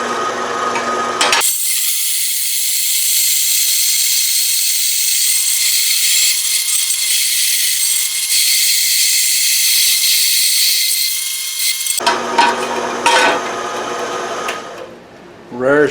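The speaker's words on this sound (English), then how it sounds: "It's rattling and making a lot of racket, but it's cutting it pretty good." A power tool cutting a small wooden pallet clamp rattles and buzzes in a loud, continuous run up close for about ten seconds, then stops, followed by clattering handling noises.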